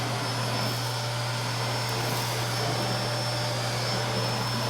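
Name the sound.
Bosch GL-20 vacuum cleaner with straight suction tool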